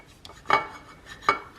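Knife and fork scraping across a plate while cutting into Pillsbury strawberry cream cheese mini bagels, two sharp clinks with soft scraping between them, close and alone.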